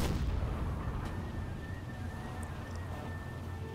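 Distant naval deck gun fire in the Silent Hunter 4 submarine game, a dense sustained rumble of booms and bursts rolling under steady sea and engine noise, with no clear single shots standing out.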